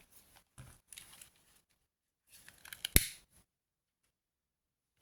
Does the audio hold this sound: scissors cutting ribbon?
yes